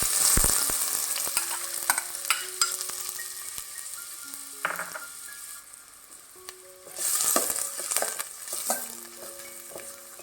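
Onion sautéing in hot oil in a pan for a Goan dry fish curry, a steady soft sizzle broken by scraping stirs and clinks of a spoon, with a louder surge near the end and no one talking.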